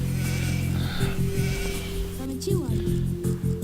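Sheep bleat in the medieval strategy game Age of Empires II, several short bleats over game sound effects and continuous talking.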